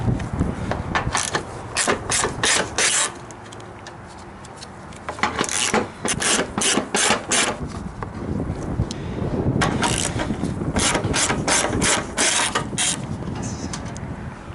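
Ratchet backing out 10mm bolts from the front air dam of a 2012-or-later Chevy Impala, Malibu or Buick, heard as repeated runs of rapid rasping clicks in steady bursts with short pauses, close up and loud.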